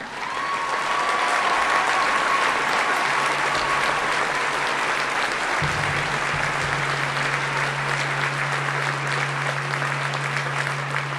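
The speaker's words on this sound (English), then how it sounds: "please stand and receive our applause for excellence in the arts" A crowd applauding at the 2018 Woodbury High School graduation ceremony, loud sustained clapping throughout, with a steady tone from the sound system running underneath in the latter half.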